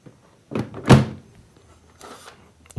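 A front panel is fitted onto a GemLightBox Pro jewellery light box, giving one solid close thunk followed by a quieter rustle and a faint clack near the end.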